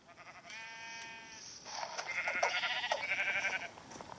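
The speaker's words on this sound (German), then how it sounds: "Ein Schaf." A sheep in Minecraft bleats twice in a cave, first a short wavering call and then a longer, louder quavering bleat, clear and close with no talking.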